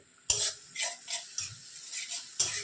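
Ground spices are stir-fried in a pan while cooking shrimp with pointed gourd: a sudden scraping clatter, then short rhythmic scrapes of a utensil against the pan with a soft sizzle between, close and moderately quiet.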